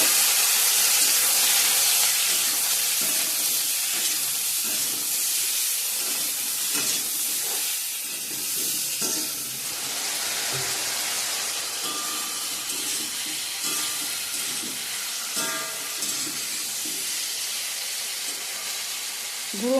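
Potatoes and pointed gourd fry in a hot pan of oil spiced with bay leaf, dried red chilli, panch phoron and ginger, giving a steady, close hissing sizzle with small crackles throughout.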